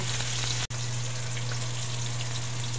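Ginger sizzling and being stirred in a hot pan as the base for sautéed mussels, a steady close frying crackle with a brief sharp break near the start, no voices.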